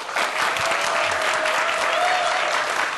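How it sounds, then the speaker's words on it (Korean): A studio audience claps to welcome a guest onto a Korean science TV talk show, a dense, loud, sustained wash of applause with a faint crowd murmur beneath it. "큰 박수로 환영해 주세요"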